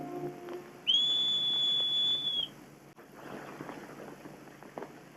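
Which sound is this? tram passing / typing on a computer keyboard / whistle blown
whistle blown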